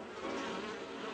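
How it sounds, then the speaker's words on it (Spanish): Bees buzz at a beehive, a dense steady drone of many insects close by, with no voices over it. "Mira, Willy, así son las abejas estas."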